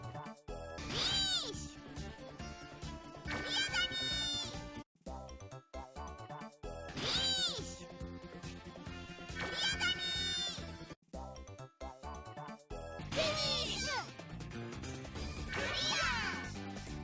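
Hits landing on the big red cat Kengou Benimaru in the Yo-kai Watch Puni Puni mobile game, repeated bursts of cartoon impact effects and squealing, sliding cries over steady game music, in several rhythmic waves.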